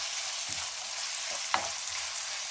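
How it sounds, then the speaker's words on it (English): Chopped onions frying in hot oil in a pan give a steady, bright sizzle, with a few soft stirring knocks and scrapes over the top. "Add in 2 chopped onions and fry them till they turn translucent."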